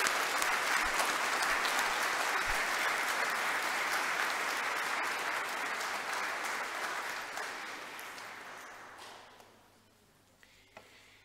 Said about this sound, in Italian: Allora facciamoci un bel applauso.